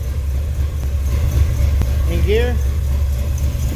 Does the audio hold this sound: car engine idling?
yes